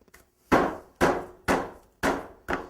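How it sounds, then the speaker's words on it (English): Serrated meat tenderizer hammer pounding pork cutlets on a board for spicy pork rolls: five sharp, evenly spaced thuds about half a second apart, close and loud, with no talk. "take real quick the other side of the hammer if you have one like this with the serrades, and just give it a few just to tenderize it some more"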